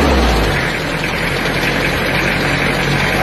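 A Toyota Kijang diesel engine with a piston fault, running loud and close in a continuous rumbling drone that stays heavy and steady throughout.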